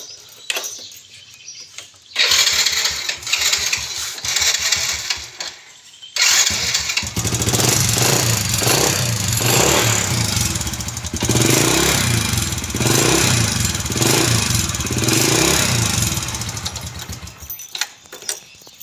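A newly bought motor vehicle's engine cranks and catches, then runs loud and close with repeated revs for about fifteen seconds before cutting off, with no talking.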